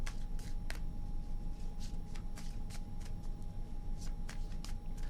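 Tarot cards are shuffled by hand in a run of crisp riffles and flicks, moderately close, over a steady low background hum with no talking.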